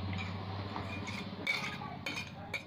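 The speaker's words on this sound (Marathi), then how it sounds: "ती मी काढून घेते आता बाउलमध्ये." A spoon scrapes thick mint coriander chutney out of a mixer jar into a bowl, with faint metallic clinks and scrapes against a steady low hum, quiet and close.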